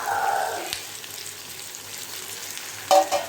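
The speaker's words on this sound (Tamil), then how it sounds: "இப்போ இந்த ஸ்டேஜில் தக்காளி ஆட் பண்ணணும்." Chopped tomatoes dropped into onions frying in hot oil for onion chutney, a steady close sizzle with a brief louder hiss and stir near the end.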